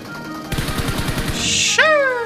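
Rapid bursts of gunfire crack out in quick succession, loud and close, followed by a rising electronic whine.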